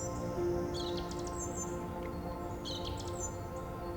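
Birds chirping outside a hospice house in winter, two short bursts of high tweets over a steady low background hum, fairly faint and distant with no voices.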